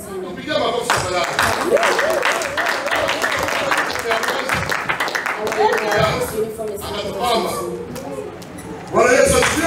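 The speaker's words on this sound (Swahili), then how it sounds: "Piga makofi tafadhali." A congregation at a church launch event claps in a sustained, dense patter while a voice carries over the applause throughout.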